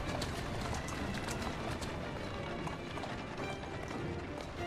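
Horse hooves clip-clopping at a brisk, steady pace in the Assassin's Creed Syndicate video game, a continuous close rhythm of hoof strikes with no talking over it.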